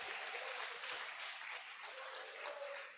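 A church congregation gives sustained applause for the King, a soft, distant, even wash of many clapping hands with slight swells and no voices on top.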